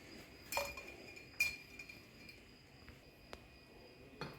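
Drinking glasses clink against each other as lemon slices go in for a mojito-style drink, several sharp bright chimes spaced over a few seconds, fairly close and quiet, with no talking.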